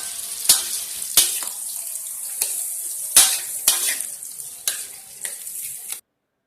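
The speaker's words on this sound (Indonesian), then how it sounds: "iris bawang putih dan bawang bombay lalu tumis dengan margarin" Sliced garlic and onion sauté in margarine in a pan, a steady bright sizzle punctuated by several sharp clinks and scrapes of stirring, close and alone without any talk.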